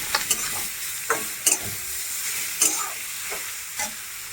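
Grated carrot being stirred in a pan for carrot halwa, cooked down in milk: a steady scraping of a spoon against the pan in repeated strokes over a continuous soft sizzle, close and fairly loud.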